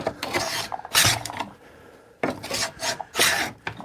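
Hand plane shaving a groove into a wooden pencil box piece, in two bursts of rasping, scraping strokes separated by a quieter pause, close and fairly loud with no talking.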